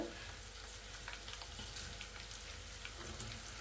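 Thin, long-sliced onions hit hot oil for tempering a traditional horse gram flour dish, giving a steady close sizzle and crackle that runs throughout with faint stirring and no voices.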